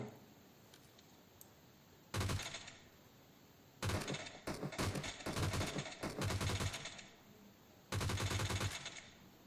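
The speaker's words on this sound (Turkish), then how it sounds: "Hop biri de bize sıkıyor." Automatic gunfire in PUBG Mobile, four loud, sharp bursts of rapid shots with quiet gaps between them, the longest volley in the middle broken into short stuttering strings.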